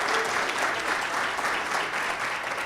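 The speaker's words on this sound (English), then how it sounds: "And keep clapping for the other group that's here" A large audience at a national sales meeting for a food sales team claps steadily and densely throughout, with the loud, even applause continuing without a break and no talk over it.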